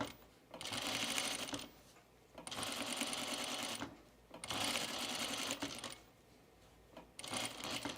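Sewing machine stitching a 1930s-inspired blouse, running in three longer bursts and a shorter final one, each a fast, even whir separated by brief pauses.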